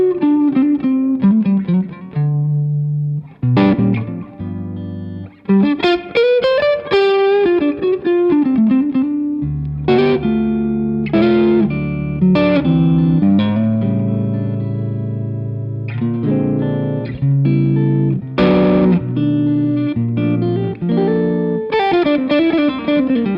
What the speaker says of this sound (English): Some neck pickup sounds like this.